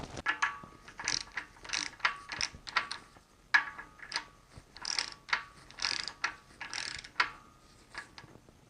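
Torque wrench ratcheting on a bolt of a BMW E46 M54 engine during reassembly, a close, steady series of clicking pawl strokes in rhythmic bursts with no talk.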